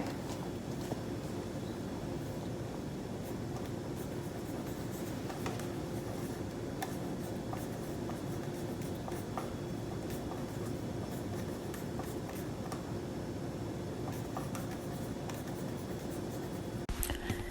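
Pen or pencil scratching steadily across paper as a person writes during the Boston Diagnostic Aphasia Examination's picture-description writing test. A continuous, close, soft scrape with small ticks runs throughout, with no talking.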